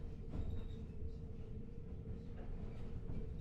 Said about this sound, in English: I wanted to capture the atmosphere in as much detail as possible. For this recording session, I used a mixture of gear to capture a variety of train-based sounds.